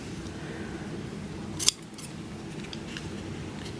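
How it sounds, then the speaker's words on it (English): Scissors trim the fabric of a cross-stitch ornament with one sharp, close snip over a quiet background, followed by faint soft rustling. "so I'm going to go ahead and trim it down."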